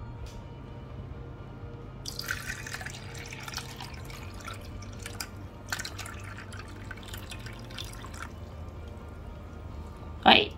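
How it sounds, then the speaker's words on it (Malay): Water trickles and drips into a large betta aquarium set up in a river style, a soft continuous splashing with irregular drips, heard close up beneath someone talking. "masukkan air sebelum kita gunakan"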